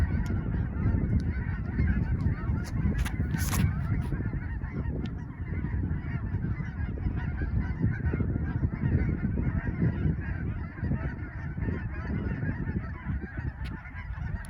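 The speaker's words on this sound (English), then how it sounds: "Oh, there's a whole bunch of geese right there too." A whole flock of geese honks continuously outdoors on a course, a steady chorus of overlapping calls at moderate distance with no voices.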